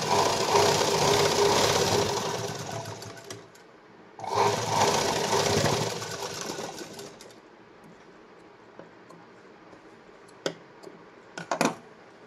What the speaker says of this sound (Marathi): मग मधोमध्याला एक शिलाई मारून घ्यायची